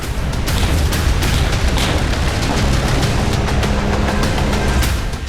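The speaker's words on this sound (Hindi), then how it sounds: "जापानी हमले में युद्धपोत यूएसएस एरिजोना एक जबरदस्त विस्फोट के साथ फट गया।" A massive explosion from the battleship USS Arizona during the Japanese attack, rendered as a dense, continuous roar of blasts and rumbling booms with crackling bursts, loud and sustained throughout.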